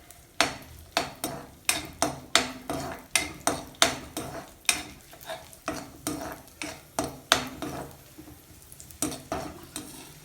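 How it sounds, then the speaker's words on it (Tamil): Cashews and raisins frying in ghee for rava kesari, with a steady bed of sizzle under rhythmic, close-up scrapes and clinks of a spoon stirring against the pan, repeating roughly every half second with no voices. "அதுக்கப்புறம் நம்ம திராட்சையை போட்டு வறுத்து எடுக்க போகிறோம்."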